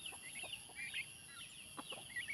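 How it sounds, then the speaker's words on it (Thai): Chickens cluck in a garden where ducks and chickens roam and forage, giving a string of soft, scattered clucks and short calls that stay moderately distant and steady, with no talk. "ไก่ง่วงก็มี"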